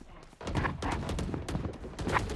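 Rapid automatic gunfire from the Odin machine gun in the VALORANT video game, a dense, steady stream of shots running the whole short stretch at moderate loudness with no talk over it.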